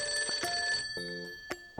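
A mobile phone rings with a bright, repeating electronic chime, clear and close with no one talking.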